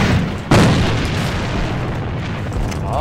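A grenade in the AVA shooter goes off with a single loud, close boom about half a second in, its low rumble decaying over the next couple of seconds.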